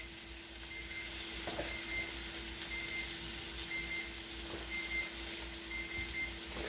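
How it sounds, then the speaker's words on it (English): Slider patties searing in a pan, giving a steady close crackling sizzle with faint clinks from a utensil now and then. "Now that they're kind of searing up nicely on one side."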